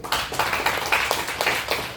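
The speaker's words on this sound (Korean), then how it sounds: "박수 한번 쳐주세요" Church congregation clapping together during a sermon, a steady patter of many hands at close range that lasts the whole moment without a voice.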